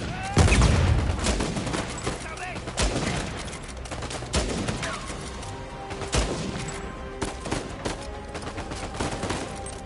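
Video game gunfire rattles in quick automatic bursts and single shots during headshot kills, loud at the start and then continuing in scattered sharp volleys.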